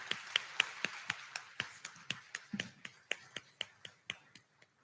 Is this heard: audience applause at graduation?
yes